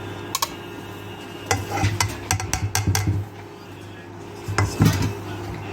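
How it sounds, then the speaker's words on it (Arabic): White flour, powdered milk and starch go into a cooking pot, with clinks of utensils and dishes and the scrape of a spoon against the pot in bursts over a steady low kitchen hum. "هنا عندي نص كوب من الطحين الابيض ونص كوب من الحليب البودر وربع كوب نشا، راح اضيفهم بالقدر"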